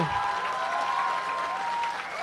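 An audience claps through a public talk in India, a dense, steady wash of applause that holds at an even level for the whole stretch with no pauses.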